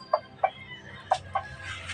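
Chickens kept by a rooster breeder give a few short, soft clucks in an uneven rhythm, close by and alone, with low background rumble.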